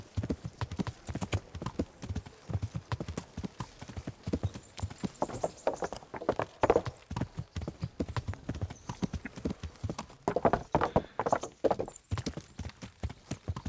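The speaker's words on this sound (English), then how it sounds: "voy a llamar a mi caballo" Horse galloping in the video game Kingdom Come: Deliverance, rapid rhythmic hoofbeats thudding continuously at close range with no talk over them.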